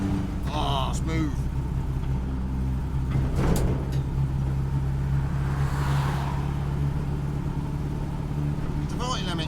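Bedford CF van engine running while driving, a steady low rumble with a droning hum throughout, and people talking over it.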